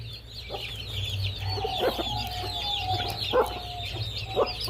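Hens and young chicks cluck and peep while pecking at chopped onions scattered on the ground, with repeated nearby clucks and high chirps over a steady low hum.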